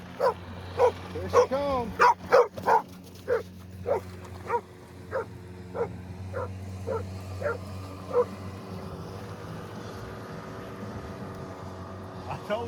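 Dogs play by a river at a campsite, barking and yipping in quick bursts that thin out to occasional yaps, over a low hum of water and a few voices talking nearby.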